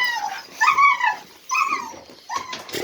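Akbash puppies whimpering and whining in high, wavering cries, several short bursts close by with brief pauses between them.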